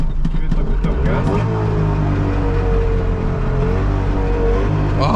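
A warm Trabant 601S two-stroke engine revs steadily under a little throttle, a loud, continuous buzzing drone close by, with people talking over it.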